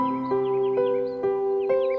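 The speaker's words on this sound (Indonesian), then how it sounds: "Kicauan ini terancam tak terdengar lagi karena saat ini hampir 250 spesies burung di Indonesia" Crows give repeated harsh caws in a steady rhythm, a few calls in a row, clear and fairly close with no other sounds.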